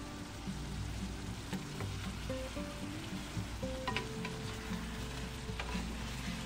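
Filipino adobo simmering and sizzling in a pan while a spoon stirs it, a steady close frying hiss with scattered scraping and clinking from the stirring, no voices.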